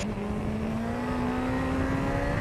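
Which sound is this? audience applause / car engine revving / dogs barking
car engine revving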